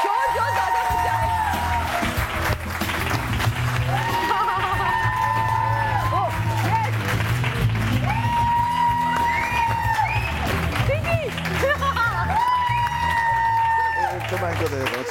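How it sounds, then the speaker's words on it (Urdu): Studio audience on a Pakistani morning talk show claps and cheers in loud rising bursts, with whoops and shouts, while a host keeps talking and music plays underneath. "آپ یہ جہاں وہاں جا کے اب جو تالیاں زیادہ بجائے اس کو دے دیں, شور جو زیادہ بجائے"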